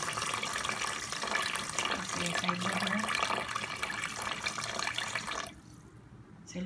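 Tap water runs steadily into a cooking pot holding two cups of washed rice, a continuous splashing rush that drops to a quieter trickle near the end.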